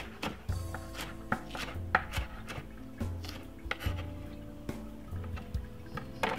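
A knife chops spring onion on a cutting board in quick, steady strokes, each crisp knock close and distinct, with no talking.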